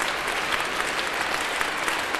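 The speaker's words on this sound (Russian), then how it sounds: "Михаил Грицкан, ваши аплодисменты" Audience applause at a beauty contest, close, even clapping from a crowd that continues steadily throughout with scattered sharper claps standing out.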